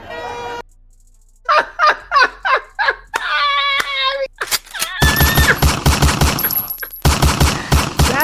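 A rapid burst of gunfire crackles loudly through a noisy outdoor political rally, following a run of short, sharp squawking calls and chatter, with dense popping shots continuing to the end.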